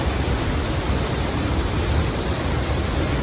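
Wagon Wheel Falls, a waterfall seen through trees along the Pacific Crest Trail near Tuolumne Meadows, heard as a steady, dense roar of rushing water that holds constant throughout, with no voices.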